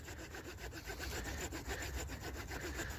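A hand saw cuts notches into wood for a bushcraft buck saw in the forest, a steady rasping back-and-forth stroke rhythm, close and fairly quiet, no talk.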